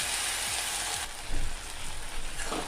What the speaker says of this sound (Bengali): আদা, কাঁচা লঙ্কা, টমেটোর পেস্ট পেঁয়াজের সাথে খুব ভালোভাবে মিশিয়ে নেব আর প্রায় 3 থেকে 4 মিনিট সময় নিয়ে এটাকে কষিয়ে নেব